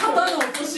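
Live audience clapping, a short burst of fast, close, sharp hand claps that carries on for under a second and mixes with talk.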